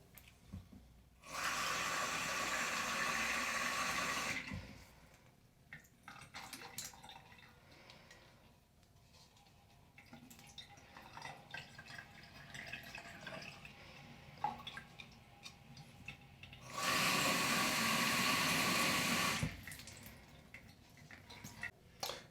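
Water pours from a 3D-printed working teapot in two steady, splashing streams of about three seconds each, separated by quiet room noise with faint clicks and handling sounds.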